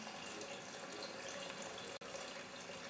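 Tap water pours steadily into a pot of cucumbers being cooked into cucumber soup, a continuous close splashing rush with one brief break near the end.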